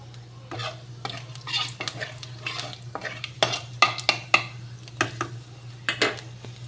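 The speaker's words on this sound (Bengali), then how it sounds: "এবার একটু আমি শুকনো লঙ্কা আর পাঁচফোড়ন দিয়ে দিলাম।" Dried red chillies and panch phoron frying in oil in a kadai, a steady sizzle broken by sharp spoon scrapes and clicks, close and moderately loud over a low hum, with no voices.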